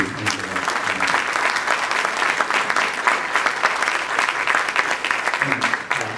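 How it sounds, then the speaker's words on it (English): Audience applause at a Charlotte Rotary panel luncheon, a sustained dense roar of many hands clapping close by, steady and loud for several seconds. "join me in giving a big round of applause to"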